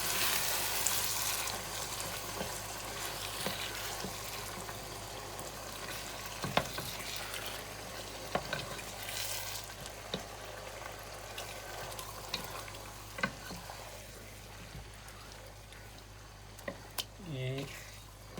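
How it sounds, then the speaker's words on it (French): Chicken curry with yogurt is stirred in a pot, a soft sizzle and bubbling with intermittent scraping and clinks of the spoon, faint and close, with a voice briefly heard near the end. "On va le bien mélanger."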